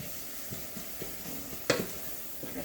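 A spoon stirs turmeric into a pot of cooking pinto beans. It makes quiet, evenly spaced scraping strokes over a faint simmering hiss, with one sharper clink partway through.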